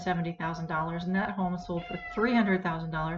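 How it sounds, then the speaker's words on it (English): A house cat meows repeatedly in drawn-out, wavering calls close by, overlapping continuous talking from a nearby person. "and that's my cat"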